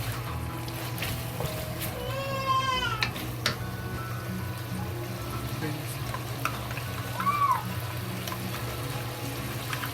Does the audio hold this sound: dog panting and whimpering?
no